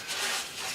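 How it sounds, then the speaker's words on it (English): Brush strokes spreading rust converter over the rusty metal of a square-body Chevy truck, a short close rasping rub with two swells. "I recommend to brush it on just like you see me doing"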